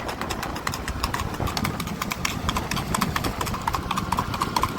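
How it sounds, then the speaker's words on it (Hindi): A racing horse walks at a steady pace, its hooves clip-clopping in a continuous, even rhythm close by, with faint engine idling in the background. "अभी मस्त चल रहा है घोड़ा।"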